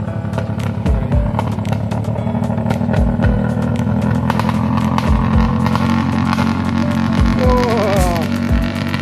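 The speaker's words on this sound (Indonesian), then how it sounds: "ini adalah motor kebun ini" A farm motorcycle engine roars steadily as it climbs a steep uphill road, loud and close, with a constant throbbing hum and repeated low thumps.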